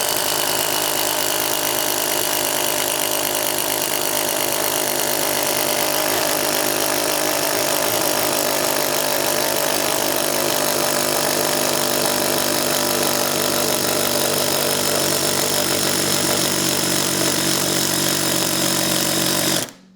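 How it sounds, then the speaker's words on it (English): A Ryobi ONE+ HP drill with a spade bit bores a blind hole into 2x lumber, a loud, continuous grinding whine with steady motor hum and chewing wood, running unbroken for the whole stretch until it cuts out at the end. "See how it retains this spattle bit when we drill a blind hole into these 2x."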